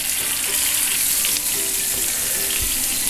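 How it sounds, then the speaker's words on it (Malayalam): Seer fish (king fish) fries in oil in a pan, giving a constant loud hiss and crackle of sizzling with a brief bump partway through. "നമ്മുടെ ഫിഷ് ഇപ്പോൾ വെന്ത് വരുന്നുണ്ട്"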